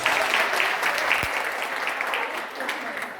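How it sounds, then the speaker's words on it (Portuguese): A congregation at a large church family gathering breaks into a round of applause, steady and dense throughout, with the clapping slowly easing toward the end. "Uma salva de palmas"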